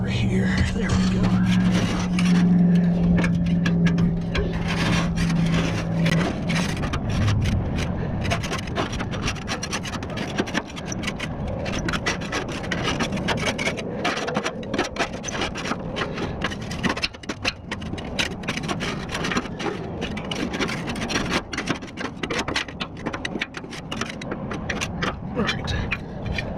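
Small hand scraper rasping against the deck of a Cub Cadet RZT 42 riding mower during a tune-up, a steady close scratching that runs throughout, with a low hum early on and brief talk over it.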